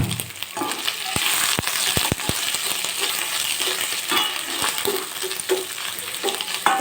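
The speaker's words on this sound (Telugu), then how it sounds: "ఇందులో అల్లం పేస్ట్ వేసి బాగా కలపాలి" Ginger paste being stirred into a frying fish curry base, with a spoon clacking sharply against the pan several times over a steady, close sizzle.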